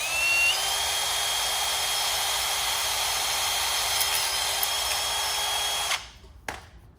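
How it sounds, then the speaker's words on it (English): A power drill with a 1/8 inch bit bores rivet holes for a wheel light kit, giving a steady, high-pitched whine that runs close and loud for about six seconds before cutting off, then a brief clatter, with no talk. "we are using a 1/8 inch drill bit with the rivets that come with the DBA kit"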